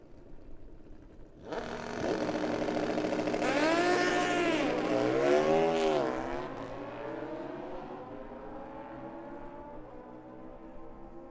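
A Suzuki Bandit motorcycle at a drag strip launches loudly after a quiet start, its engine rising and shifting through gears for several seconds before fading into the distance.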